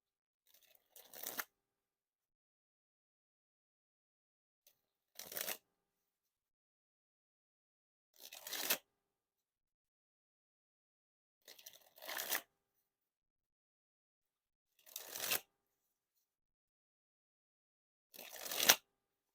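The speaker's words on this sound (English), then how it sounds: "Now to dribble the cards." White Makers special reserve playing cards dribbled from the hand in six short bursts, each a soft pattering flutter that builds quickly and stops, separated by quiet gaps.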